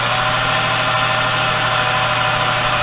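A two-wheel drive red remote control car spins its wheels at full power while barely moving, giving a steady, loud motor whine with a constant low hum throughout and no change in pitch.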